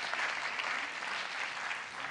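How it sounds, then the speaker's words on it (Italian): A theatre audience at a recital gives steady, even applause throughout, a dense wash of clapping hands that holds at a constant level with no voices standing out. "Un grande applauso per Maria Alberta"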